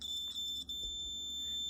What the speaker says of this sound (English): And yes, the buzzer does make noise.